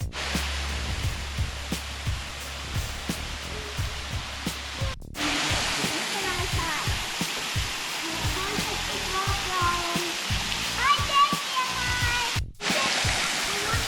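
A waterfall along the Blue Ridge Parkway, seen from a trail: a steady broadband rush of falling water fills the background, with footsteps and brief talk over it.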